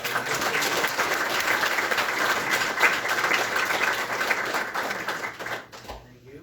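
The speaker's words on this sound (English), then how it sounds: "Might as well give to all of them a nice hand round of applause" An audience at an Imperial County Board meeting breaks into sustained, dense applause, loud and steady for about five seconds before tapering off into quiet.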